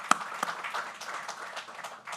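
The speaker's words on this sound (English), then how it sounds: "Please join me in giving them a big round of applause" An audience at an Urban League event honoring African American media professionals gives a light, scattered round of hand claps, fairly quiet and uneven, with a few sharper claps standing out.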